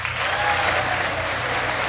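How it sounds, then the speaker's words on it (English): Steady, full applause from a large audience in the chamber during a State of the Union address, continuous and even throughout with no pauses. "Just start clapping after every sentence."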